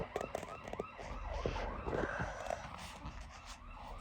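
A fire engine's siren sweeps in repeated wailing arcs, then switches to rapid yelp cycles as the truck passes nearby amid road noise.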